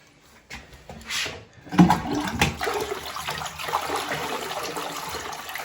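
A toilet with brown water and its seat off flushes nearby, a sudden rush of water that settles into a steady swirling gush and trickle.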